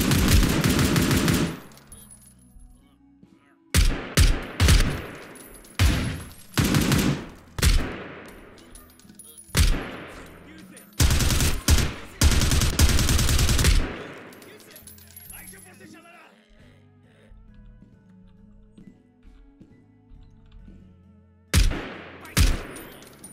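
Machine gun fire in the tactical shooter game Zero Hour: loud automatic bursts come in repeated clusters, separated by quieter stretches of movement and shuffling, with a final short burst near the end.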